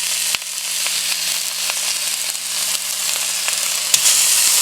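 Food sizzling steadily in a hot pan, a loud continuous hiss with occasional pops and crackles, close by and without talk.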